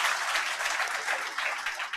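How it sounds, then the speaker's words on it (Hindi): A room full of people at a coaching academy in Jaipur applauds an officer who earned a top exam rank, with steady, dense clapping sustained for a couple of seconds. "इनके लिए तालियां बजाएं"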